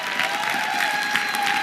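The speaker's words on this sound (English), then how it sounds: "let's give him a nice big round of applause and cheerful welcome" Steady audience applause fills the whole stretch, a dense wash of many hands clapping at even loudness, with a faint crowd murmur underneath and no speech over it.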